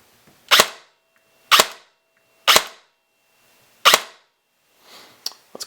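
A SIG SAUER MCX Virtus airsoft electric gun with a VFC Avalon gearbox fires single shots, four sharp close cracks spaced about a second apart, then fainter mechanical clicks.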